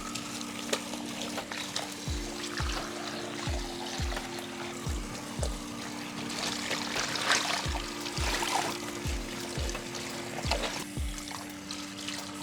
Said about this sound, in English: Now we're gonna rinse it again one more time with warm water.